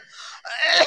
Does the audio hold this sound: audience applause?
no